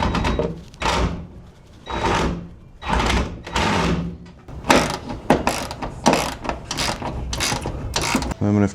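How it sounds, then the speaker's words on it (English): Ratchet clicking as bolts are tightened down on a homemade battery pack for a 1982 Toyota pickup EV, several bursts of rapid close pawl clicks separated by short pauses. "then we can tighten down the bolts."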